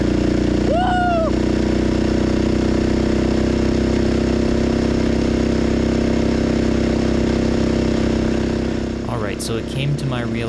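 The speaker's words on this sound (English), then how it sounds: "you guys probably would not be able to hear my voice over the loud sound of the motor" A loud motorized bike engine drones steadily and close while riding. A brief whoop of a voice comes early, and there is louder talk near the end.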